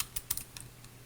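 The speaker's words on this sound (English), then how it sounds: "I'm just going to type," Quick light keystrokes on a computer keyboard, several soft clicks in an irregular burst, close and fairly quiet with no talking.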